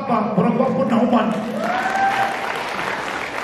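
Applause from a crowd at an E1B1 campaign event, a dense patter of clapping blended with voices and cheering that fills the room, steady and fairly loud throughout.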